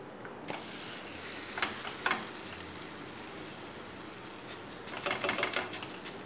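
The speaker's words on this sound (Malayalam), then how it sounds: "ഗോതമ്പ് പൊറോട്ട അടുത്തിടാനായിട്ട് ഉള്ളിലേക്ക് എണ്ണ കുറച്ച് ഇത് എടുത്തിടാം" Wheat paratha fries in oil on a pan, a soft, steady sizzle with occasional crackling bursts and small spatters, fairly quiet and without speech.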